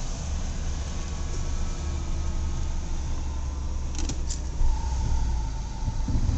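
A Ford Taurus 3.0 six-cylinder overhead valve engine idles with a steady low rumble, close and continuous, with a faint brief mechanical click partway through and no talk.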